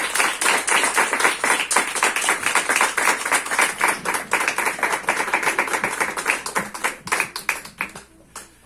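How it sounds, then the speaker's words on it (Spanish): A crowd of guests claps for the couple at a civil wedding in Jalisco, a loud, close, rapid patter of many hands that holds steady for several seconds before thinning out at the end. "pido a todos los presentes, brinden un fuerte aplauso a esta pareja"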